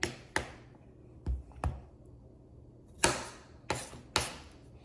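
A knife chops through the ends of a zucchini on a cutting board, landing in sharp, separate thuds, two early, two in the middle and three later, close and with no talking.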